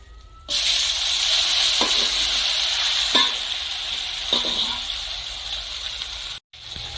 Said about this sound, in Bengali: এখন আমি ম্যারিনেট করা পাঁঠার মাংস দিয়ে দিচ্ছি